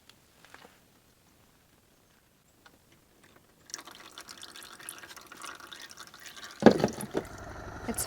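Motor oil drips from a Suzuki DR650 oil filter into a cardboard funnel above the skid plate, a quiet patter after a near-silent start, with a louder liquid splash near the end.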